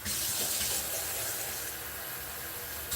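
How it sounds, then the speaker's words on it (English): Water splashes into a hot cooking pan to deglaze it, a steady hissing, sizzling wash that runs unbroken for a few seconds at moderate loudness, with no talking. "just throw some water in this"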